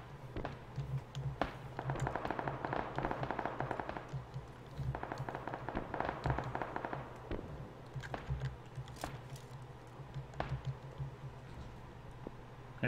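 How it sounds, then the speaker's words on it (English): Distant gunfire in the shooter game PUBG: bursts of crackling shots and scattered single pops at moderate volume, continuing in uneven clusters over a steady low ambient hum. "There's shots over that way, so be careful."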